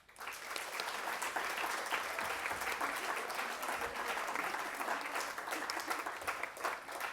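A large audience at a charity gala on mental health gives a long, steady round of applause, dense and even from start to finish with no voices standing out.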